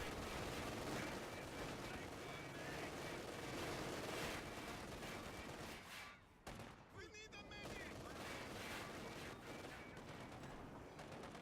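MG42 machine gun fire in a video game battle, a dense continuous roar of rapid shots with a brief break midway, faint and distant under the general noise of combat.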